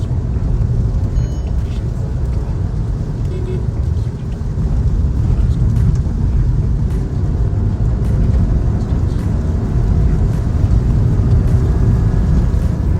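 A Skoda Kushaq 1.0 manual SUV pulls hard in third gear at high speed, its engine drone steady and loud inside the cabin, blended with continuous road and wind rumble.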